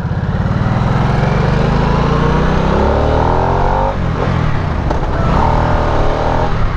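A loud Harley-Davidson Nightster 975 motorcycle engine idles with a deep, uneven rumble, then revs up and down in throaty surges, close by and steady throughout.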